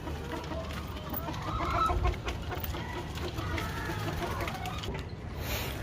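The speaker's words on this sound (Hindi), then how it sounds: "मुर्गियों की फीड का टाइम हो चुका है" Hens cluck softly amid a busy farmyard background, with scattered calls at moderate distance and no talking.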